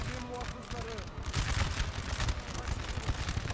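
Musket volley fire crackles from soldiers in the Napoleon Total War video game, a dense rolling fusillade of overlapping shots that grows louder midway, with a voice talking over it early on.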